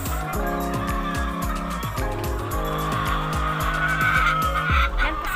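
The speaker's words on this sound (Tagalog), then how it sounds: "Yan po ang aming mga manok na layers." Layer hens at a Philippine poultry egg farm, a dense chorus of clucking and squawking from many birds under a constant mechanical hum, close and continuous.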